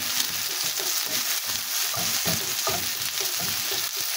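Garlic and white onion sizzle in a hot pan while a utensil stirs them, giving steady frying crackle broken by repeated scraping strokes, close and loud with no talk.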